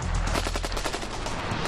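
AK-47 rifle firing fully automatic, a dense, continuous burst of loud, rapid shots with an even rhythm filling the whole moment, close and powerful.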